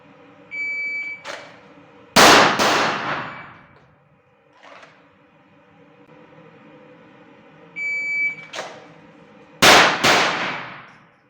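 Glock 19 pistol, a 9x19 Gen 5, fired in a timed two-shot string at 10 yards, with loud sharp reports in close pairs plus short electronic timer beeps, and no talking.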